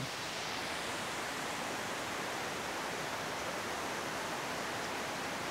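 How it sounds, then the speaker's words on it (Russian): Steady broadband roar of a waterfall in Goa, continuous and fairly loud with no breaks, filling the whole stretch without voices. "Этот водопад..."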